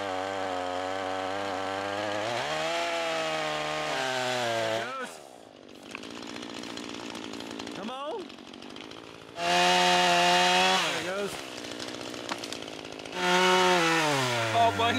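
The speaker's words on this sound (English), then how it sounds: "James has got this new 12-inch chainsaw he's been dying to use." A 12-inch chainsaw cuts through a fallen tree in snowy cold, its engine loud and steady, then revving and dropping as it bites into the wood and idles between cuts. A voice is briefly heard.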